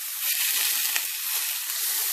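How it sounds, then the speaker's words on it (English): Spare ribs sear in a hot pan for spicy honey ribs, giving a loud, steady, close sizzle and hiss that runs throughout with no talking. "I'm going to sear my meat first."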